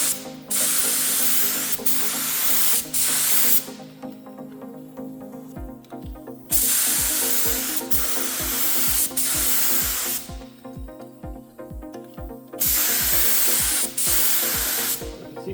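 A paint spray gun hisses in several long, loud bursts close by during car bodywork and roll cage painting, separated by short pauses filled with rhythmic knocking and clicking. No one speaks.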